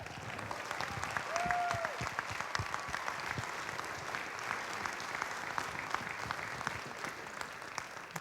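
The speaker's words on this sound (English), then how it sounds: "And now, a round of applause for those gentlemen" An audience at a hall of honor induction ceremony gives a steady round of applause, a dense patter of many hands heard at moderate distance, with faint murmurs beneath.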